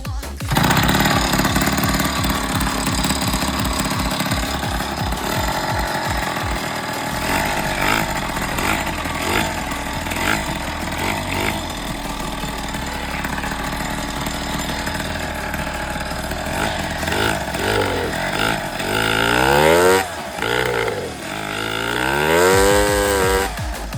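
A rebuilt two-stroke moped engine revs hard at high RPM, buzzing loud and close for the whole stretch, with rising and falling throttle sweeps near the end.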